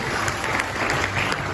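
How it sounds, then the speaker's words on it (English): At an international education conference and awards event in Dubai, the audience claps for teachers in a brief, dense burst of applause that holds steady throughout. "A big round of applause for teachers."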